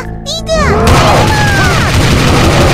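Gunfire from the Sakura School Simulator game, a loud, continuous burst of shots and booms that fills the clip after a brief moment of quieter game sounds and tones.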